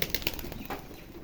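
Racing pigeons at a loft flap their wings in a quick flurry of soft, papery beats, close and brief, with no talking.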